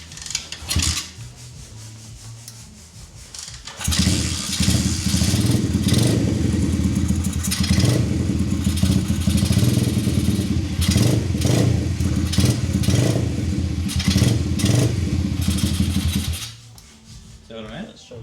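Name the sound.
motorcycle engine being started with choke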